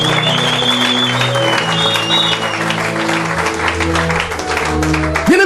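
Church congregation applauding during a worship service, dense continuous clapping under sustained organ or keyboard chords, loud and close throughout.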